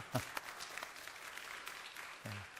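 A church congregation applauds mothers during a Korean Mother's Day service: a faint, steady patter of clapping with a brief voice heard at the start and end.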